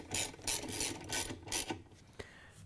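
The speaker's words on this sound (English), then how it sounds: "Once you have it down all the way, you can tighten down the agitator bolt." A ratchet tightens the agitator bolt on a Whirlpool, KitchenAid or Maytag washer, giving several quick close bursts of rapid clicking followed by one sharp final click.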